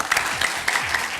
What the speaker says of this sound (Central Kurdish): دەمەوێت گەرمترین چەپڵەی ئامادەبوانم گوێ لەبێت بۆ